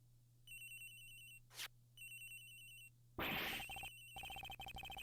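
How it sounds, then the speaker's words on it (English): A mobile phone rings in the courtroom-investigation game Ace Attorney Investigations, with repeated electronic chirping bursts separated by short pauses, then a whooshing effect and a denser ringing pattern, all clear and without talk. "Agent Hicks's phone. It's ringing from somewhere, sir."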